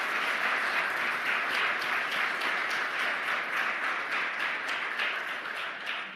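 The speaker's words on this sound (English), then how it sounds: "Can I get a round of applause for our Treasury Secretary?" An audience breaks into sustained applause for the Treasury Secretary, a dense, even wash of many hands clapping that holds steady for several seconds before tapering slightly at the end.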